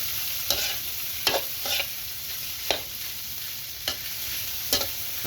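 Sausage, meatballs, minced pork and hot dogs are stir-fried in a hot pan, giving a steady close sizzle broken by a handful of sharp scraping strokes from the spatula.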